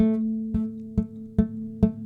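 A low plucked guitar string note from poor fretting, repeated about five times at a steady pace, each pluck sounding dull and slightly buzzy rather than ringing clearly.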